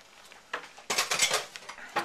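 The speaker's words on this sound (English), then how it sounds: "Shake out your blender." A kitchen blender shaken out, sharp clinks and rattles of the jar and blade, a few close bursts, loudest in the second half, with no talk.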